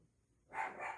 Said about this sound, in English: Sorry for the dog bark.